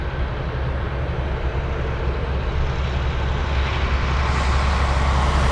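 A Delta airliner rolls past at Anchorage's cargo-heavy airport, its jet engines a steady, loud, broadband roar that swells slightly toward the end, with no voices over it.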